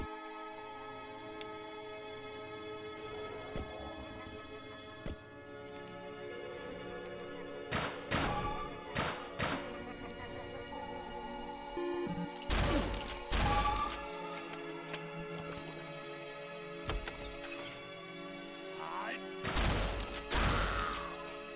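Grenade thrown and exploding in the video game Gunscape, with scattered thuds and crashing blasts among in-game clatter and effects, no talking.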